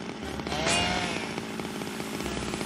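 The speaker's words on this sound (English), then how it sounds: "Not exactly stealthy, the chainsaw." A chainsaw runs in the video game Zero Time Dilemma, giving a buzzing, sustained motor drone at moderate volume with a brief rise in intensity early on, and no talking over it.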